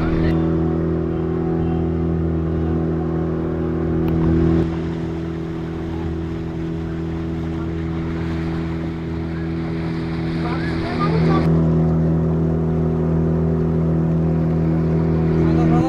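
A motorboat carries passengers on a dolphin-watching ride at Goa Dolphin Point, its engine droning steadily with a loud hum, wind and water rushing past and shifting in intensity as the boat runs on.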